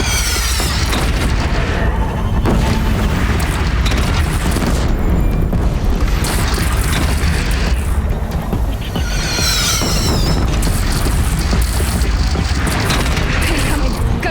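Heavy cannon fire in the game Horizon during a battle on a defended platform, booming blasts and crashes repeating over a constant loud din of combat noise, with shouting voices mixed in.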